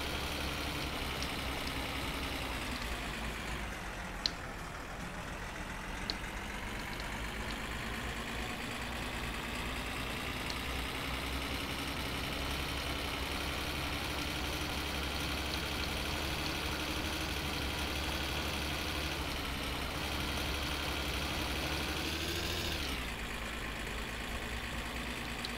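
A van engine in the video game My Summer Car runs steadily, a low droning idle with a faint pitch rise and fall, alone and moderately quiet, with a brief click partway through.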